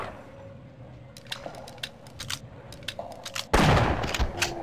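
Gunfire in a Half-Life VR mod crackles as a run of sharp, quick shots, sparse and moderately loud at first, then ends in a louder, heavier burst with a rumbling tail.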